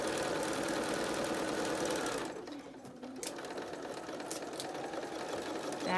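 Sewing machine stitching fabric face masks in a batch, a steady close whir that stops briefly and restarts with a few light clicks between seams.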